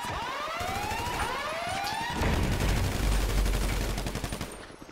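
Rapid AK rifle gunfire in GTA V, loud, continuous bursts building from about two seconds with sharp pops, layered over a wailing siren-like tone in the background.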